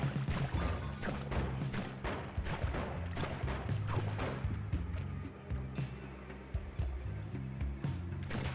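Shotgun wand spells fire in rapid, dense bursts in Noita, a continuous barrage of booming blasts and crunching impacts with almost no pause, loud and close throughout.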